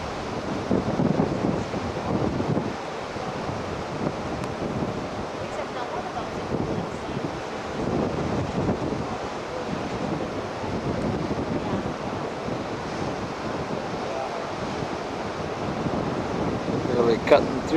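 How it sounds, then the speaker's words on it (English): Cruise ship pushing through waves in Alaska's Inside Passage, a steady rushing wash of water with wind buffeting the microphone, continuous and fairly loud throughout, with a faint voice in the background. "Cutting through the waves."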